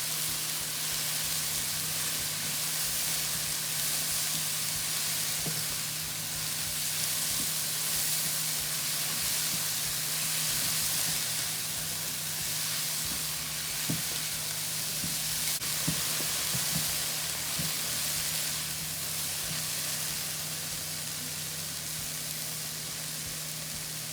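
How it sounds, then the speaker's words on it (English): Mushrooms cooking down in a pan for a vegan shepherd's pie, releasing their juices: a steady, close hissing sizzle that continues without pause, with a few faint clicks and taps scattered through. "we want to keep cooking down our mushrooms"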